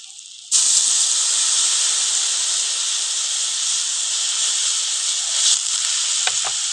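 Water hits hot spiced oil with chilli powder and potatoes in a pan, setting off a sudden loud, steady sizzle and hiss that holds throughout.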